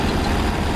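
Tractor engine in Farming Simulator 19 revving hard, a dense, loud, steady mechanical drone with a heavy low rumble throughout.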